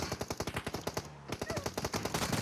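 Gunfire in the mobile battle-royale game PUBG Mobile during a three-player squad match: rapid automatic bursts of shots, a brief lull near the middle, then more sustained firing, loud throughout.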